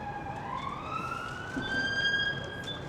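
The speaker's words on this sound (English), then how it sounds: "The sirens." A police siren wails from a distance, its tone gliding upward and steadily growing a little louder as the vehicle draws nearer over low street noise.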